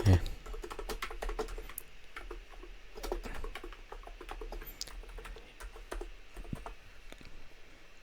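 Steady clicking of computer keyboard typing in short irregular bursts, close and fairly quiet, under someone speaking Korean.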